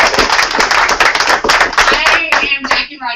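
Crowd clapping at a Texas Independence Day rally held at a gun shop, a brisk burst of close, sharp handclaps that thins out toward the end with a voice starting up underneath.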